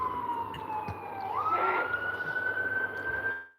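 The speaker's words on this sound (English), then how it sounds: "Ambulance roaring through." An ambulance siren wails through a street, its steady electronic tone sliding upward as it passes close by over a low rumble of traffic, loud and continuous before cutting off abruptly.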